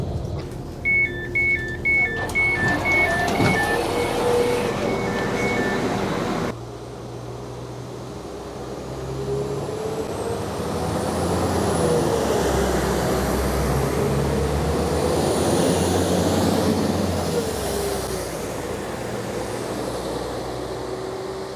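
A passenger train pulls into Hebden Bridge station on the Calder Valley line, its onboard chime beeps and tones giving way to a steady low rumble and rolling wheel noise heard from inside the carriage.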